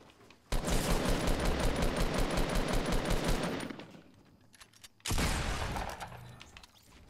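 Fortnite automatic gunfire rattles in a loud, rapid sustained burst for about three seconds, then stops briefly before another heavy burst of shots.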